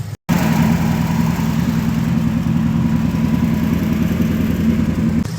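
A Toyota 1UZ V8 with individual throttle bodies, swapped into a Nissan S13 drift car and running rich, idles at low RPM with a steady, loud, even rumble that holds throughout after a brief dropout at the start.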